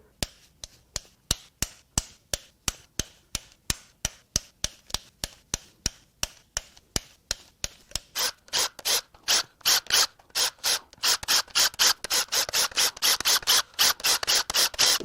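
Ratchet clicking steadily as camshaft bolts come off a VW 2.0L TDI engine. Evenly spaced clicks come close up, growing quicker and denser toward the end.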